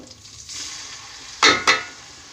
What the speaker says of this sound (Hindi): अब मैं इसमें ये लहसुन अदरक का पेस्ट डाल रही हूँ।